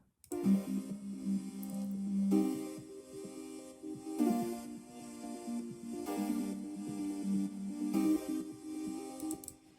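Vintage saw synth keys play a sequence of sustained chords in Ableton, each held a couple of seconds with soft attacks and an airy reverb tail, clean and moderately quiet with no voices.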